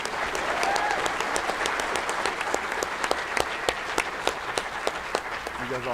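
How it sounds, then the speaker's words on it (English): An audience at a senior awards night claps for Academic All-State winners, a full round of applause with sharp individual claps standing out near the front, steady throughout and gradually thinning toward the end. "So please, one more round of applause for our Academic All-State winners."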